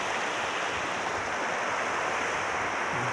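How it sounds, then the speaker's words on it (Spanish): The Pativilca River rushes beneath the Pativilca bridge, a steady, dense roar of moving water that holds constant throughout with no pauses. "esto es el puente de Pativilca, aquí en el río Pativilca"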